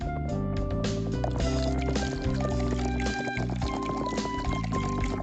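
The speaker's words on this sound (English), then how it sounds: "Pour the hazel mushroom and soaking water into the pot." Soaked hazel mushrooms and their soaking water poured into a pot, a continuous close splashing and gurgling pour with small clinks and drips, steady and fairly loud throughout, no speech.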